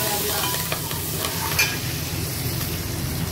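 Curry leaves and crushed garlic fry in hot oil in a pan for vendakkai puli kuzhambu, a steady close sizzle with soft scraping stirs, no one talking.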